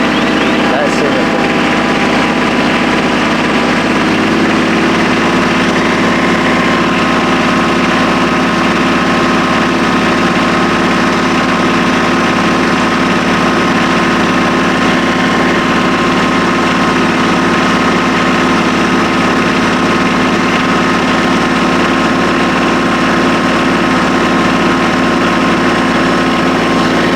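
Tractor engine running at raised RPM with the PTO engaged while baling hay, a loud, steady mechanical drone with constant vibration for the whole half minute.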